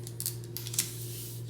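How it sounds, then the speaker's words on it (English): A True Control craft knife slices through a laminate sheet, giving a few short, soft scraping cuts over a low steady hum, close and quiet, with no talking. "I'm going to take my True Control knife. You guys know I use this all the time, and I'm just going to cut down my laminate"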